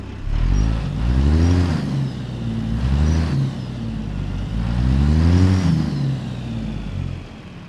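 A CAT C15 truck engine in American Truck Simulator with the Zeemods CAT C15-6NZ sound pack revs repeatedly, its loud diesel note climbing in pitch through three strong surges before settling back to a steady idle-like rumble.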